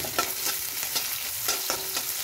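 Onion fries with mixed leafy greens in a pan for a mixed shak bhaji, giving a steady close sizzle broken by several soft stirring scrapes at irregular intervals, with no voices.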